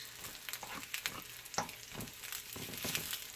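Lightlife veggie breakfast sausages fry in a pan after a couple of minutes on each side, giving a steady, quiet crackle with irregular pops and spits and no voices.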